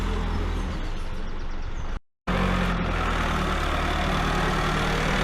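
An engine, likely a forklift on a hay farm, runs at steady high power in a loud continuous drone, briefly cutting out for a moment before resuming just as loud.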